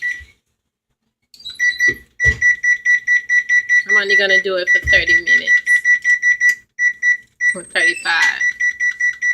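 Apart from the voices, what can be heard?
kitchen timer beeping while being set for baking cheesecake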